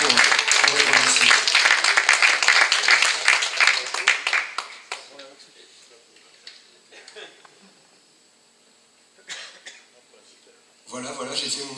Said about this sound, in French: je pense qu'on peut les applaudir très très fort